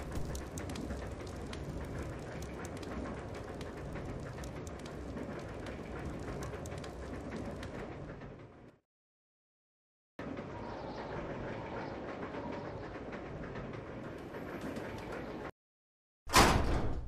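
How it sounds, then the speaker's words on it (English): Moving train in the Resident Evil 0 video game: a continuous rumbling, rattling ride noise with rain-like patter, cutting out to silence twice before a sudden loud return at the end. "The train will either derail or crash. I gotta stop this thing."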